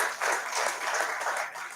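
Audience at an awards ceremony applauding sponsors, a steady wash of clapping at moderate level throughout, without pauses or voices.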